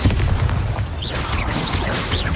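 Bombarda blasting spell from Hogwarts Legacy: a loud, sustained explosive roar with deep rumbling bursts and crackling debris, close and continuous throughout.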